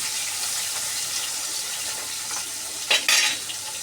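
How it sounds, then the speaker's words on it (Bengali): Poa fish fry in a pan of oil with a soft, steady sizzle, broken near the end by a couple of brief louder scraping or spattering bursts. "অল্প অল্প করে মাছগুলোকে ভাজবো"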